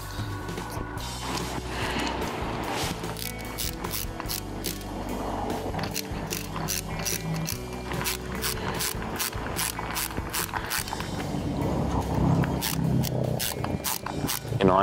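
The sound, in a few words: tightening the three cover screws on a Honda XL 350 R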